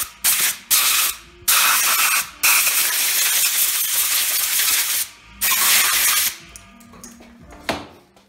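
Bursts of high heat spray paint hiss from an aerosol can onto a 1981 Honda ATC 70 part, several loud sustained sprays separated by short pauses, with clicks and handling noise between them.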